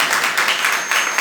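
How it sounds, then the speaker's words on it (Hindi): A church congregation at a Friday prayer meeting claps loudly and steadily in a broadband wash of applause, with no voices over it. "जोरदार ताली बजाइए"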